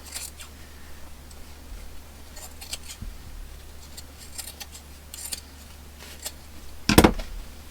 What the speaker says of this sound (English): We'll cut the zipper.